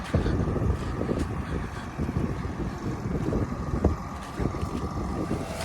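A tractor pulls a Veles Agro five-furrow plow on its first pass across a field, a steady low engine rumble with wind buffeting the microphone throughout.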